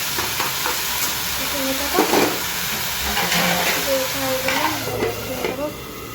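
A vegetable bhaji fries in a pan with a continuous sizzling hiss, broken by repeated scraping stirs that swell into louder bursts, while a faint voice murmurs underneath.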